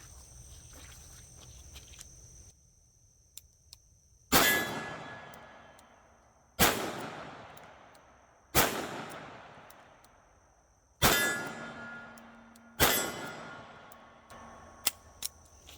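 A .357 Magnum handgun fires five separate shots at a steel silhouette target, each a sharp loud crack followed by a ringing metallic clang that fades over a second or two, spaced irregularly with quiet gaps between.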